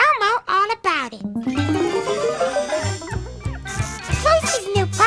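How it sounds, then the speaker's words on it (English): A new puppy whimpers and yips close by in high, sliding whines broken by short barks, with some voices mixed in. "Elmo's friend Casey just got a new puppy and told Elmo all about it"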